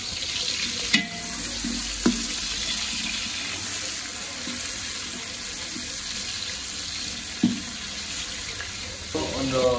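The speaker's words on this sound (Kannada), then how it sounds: "ಇದರ ಮತ್ತೆ ಚೆನ್ನಾಗಿ ಫ್ರೈ ಮಾಡೋಣ." Green chillies and spices sizzle in a pan for biryani, a steady close frying hiss with a few sharp clinks of a stirring utensil.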